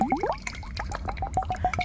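Olive oil poured over a pair of hands into a bowl beneath them, making a close, wet, gurgling trickle with rapid bubbly drips that run on steadily without pause.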